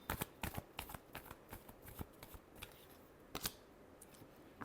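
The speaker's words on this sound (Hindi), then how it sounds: "last shuffle" A deck of tarot cards is shuffled by hand in quick, crisp riffles and flicks, close and fairly quiet, with short bursts of snapping card edges.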